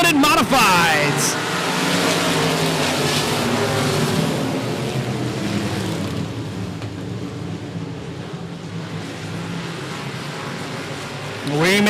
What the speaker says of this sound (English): We are ready for some green flag racing here in the limited modifieds.